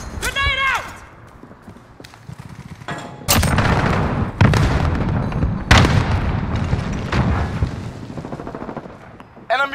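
Video game battle with loud, sharp gunfire bursts and booming blasts that keep cutting in one after another, layered over steady background combat noise, with a voice talking over it.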